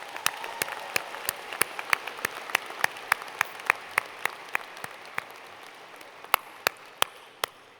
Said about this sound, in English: And I think they're worth another round of applause,